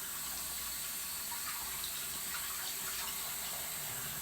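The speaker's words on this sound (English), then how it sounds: "So now you're going to do a good rinse" Tap water runs steadily into a sink as hands are rinsed during handwashing, a constant close hiss and splash with no pauses.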